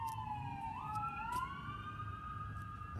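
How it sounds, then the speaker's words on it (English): A wailing siren rises and falls in pitch at moderate distance, steady over a low traffic rumble, with no voices. "That could be ambulance or fire or police."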